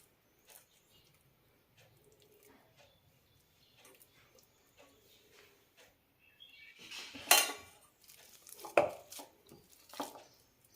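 Boiled, peeled sweet potato is mashed in a pressure cooker for cutlets, with faint scraping at first, then a few louder metal knocks and scrapes of the utensil against the pot.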